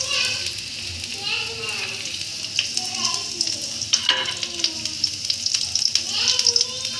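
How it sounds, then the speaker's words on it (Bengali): Chopped onions and chilies added to bitter gourd frying in a pan: loud, steady sizzling and frying with stirring scrapes, while voices, including children's, talk in the background. "এবার আমরা পেঁয়াজ দিয়ে দেব, পেঁয়াজ এবং মরিচ দিয়ে দেব।"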